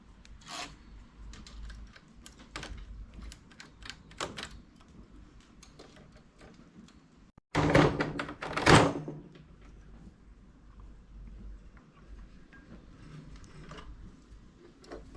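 A knitting machine carriage, with its ribber, is pushed across to knit a row of tuck stitch: soft mechanical ticks and clicks, then a louder rattling sweep of the carriage partway through, then quieter clicking again.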